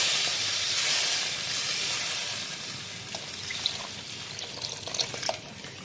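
Fish curry with mustard paste and added water simmers in a pot, a steady soft bubbling hiss with scattered faint pops and ticks, close and fairly quiet, with no talking.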